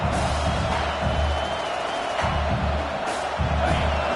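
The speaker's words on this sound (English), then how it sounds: "This crowd, full throat, spreading the eardrums" Football stadium crowd roars in a loud continuous wash of cheering, with low rumbling surges that swell and dip over a few seconds.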